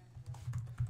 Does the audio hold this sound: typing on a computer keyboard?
yes